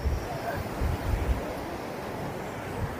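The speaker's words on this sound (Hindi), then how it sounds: "और ये देखो समंदर" Ocean waves wash against the Mumbai seafront near Bandra Bandstand, a steady broadband surf roar with gusts of wind buffeting the microphone, moderately loud and continuous with no speech.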